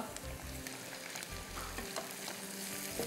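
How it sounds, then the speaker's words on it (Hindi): Ginger garlic paste fries with ground cumin, garlic and red onion in a pan for a Pakistani-style kaleji, a quiet steady sizzle and crackle with light stirring and a few low thumps, no talking. "थोड़ा अदरक लहसुन का पेस्ट जाएगा। हर चीज़ को अच्छी तरह भूनिएगा"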